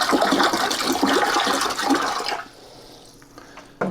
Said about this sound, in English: I'm adding a little bit more water.